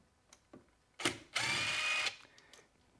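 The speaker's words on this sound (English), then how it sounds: "Make sure you use a screwdriver and never over torque or mess with anything like that." A short burst of a small power driver whirring as it backs Phillips head screws out of a golf cart steering wheel, close up, with a few light clicks and handling knocks around it and no voices.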